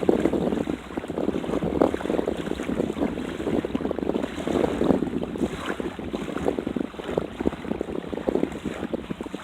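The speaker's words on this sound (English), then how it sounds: "But listen to the water." Ocean water washing onto a sandy beach at a camping spot, heard as a steady broadband rush of surf mixed with wind buffeting the microphone, continuous and fairly loud with no talking.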